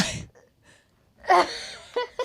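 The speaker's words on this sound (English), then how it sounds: "I'm about to sneeze." One person lets out a single sneeze, close and loud, after a short indrawn gasp, followed by a couple of small breathy sounds.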